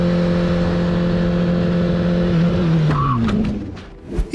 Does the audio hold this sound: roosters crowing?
no